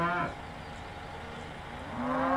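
Cattle lowing repeatedly in a farming simulation game, a clear loud moo at the start and another rising one near the end, with a faint background hum between and no talk.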